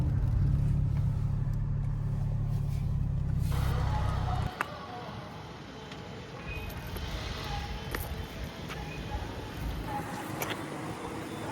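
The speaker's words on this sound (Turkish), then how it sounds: "Şöyle park edeyim arabayı" Car being parked, its engine rumbling steadily for several seconds before shutting off, leaving quieter outdoor ambience with faint voices in the background.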